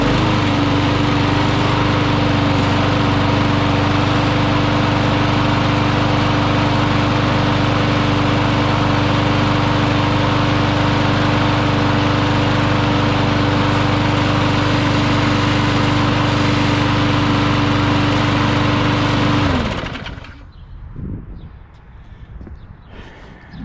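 An old lawn mower engine, freshly fitted with a new carburetor, runs loud and steady for about twenty seconds before cutting out abruptly, leaving a brief stretch of quieter rustling.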